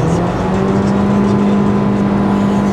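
Dodge Caliber rental car with an automatic transmission, engine holding a loud, steady high-rev drone at about 6,000 rpm with a constant whining tone as the car accelerates, heard from inside the cabin.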